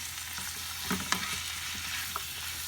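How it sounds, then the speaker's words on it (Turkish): Tomatoes sautéing in a pan for Turkish sac kavurma, a close, even sizzle with a few clinks and scrapes of a utensil against the pan partway through, no voices. "Şimdi de domatesimi de güzel kavuracağım"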